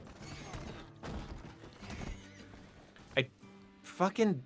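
Horses in the Red Dead Online video game neigh and whinny over steady clip-clopping hooves, two sharp whinnies standing out near the end, with someone talking over most of it.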